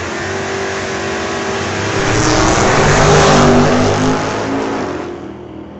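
A 1962 Chevy II hot rod drag racing at Mission Raceway Park, its loud engine roaring steadily, swelling to a peak as it passes, then fading away down the strip.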